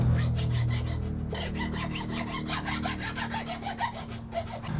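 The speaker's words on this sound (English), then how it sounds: "I'm going to clean that up with a file." A hand file scrapes back and forth along a sawn groove in a block of wood, an even rhythmic rasp of quick strokes, close and clear with no talk.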